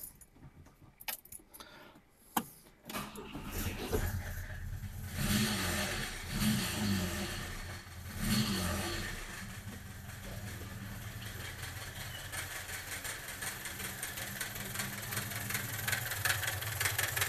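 Engine of a 1965 Volvo Amazon with a faulty timing gear, heard from about three seconds in as it starts and then runs at a steady, rough idle. Jangling keys are heard just before, and no one talks.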